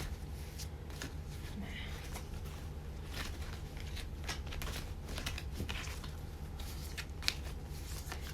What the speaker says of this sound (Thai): ขอสับไพ่นานนิดนึงนะคะ ่อยจะได้แบบว่ากระจายกระจายเกลี่ย ผสมกันทั่วถึงเนาะ